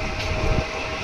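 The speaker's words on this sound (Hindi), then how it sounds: "अभी आया है कोसाम्बा जंक्शन, और इस ट्रैक से आ रही है सुपर फास्ट एक्सप्रेस।" Superfast express train passing Kosamba Junction at night, a steady loud rumble and rush of rolling stock close by, with a brief swell midway.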